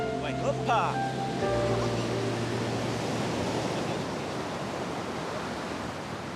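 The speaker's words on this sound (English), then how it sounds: "The wind and the waves," Wind and ocean surf roll steadily on Sal island, Cape Verde, a broad continuous wash of waves with a brief tonal hum near the start.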